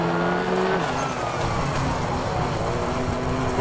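Subaru rally car in the WRC 3 video game, its engine droning steadily and loudly with shifting pitch as it accelerates along a stage, a constant roar with no talk.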